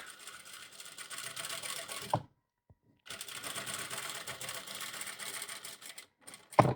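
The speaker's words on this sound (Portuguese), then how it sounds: "E aí eu vou costurar até o outro lado." A sewing machine runs a seam across a lined muslin dress in two sustained runs of stitching, split by a brief silent pause, and ends with a faint click.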